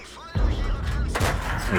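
A Panther tank fires high-explosive shells on the Redshire map in a tank battle game: two heavy booming shots about a second apart, each a loud blast with a rumbling tail over steady engine and battle noise.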